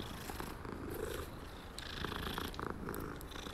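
A Siamese cat in the video game Hogwarts Legacy purrs steadily while being petted, a close, continuous low rumble with faint game ambience beneath it.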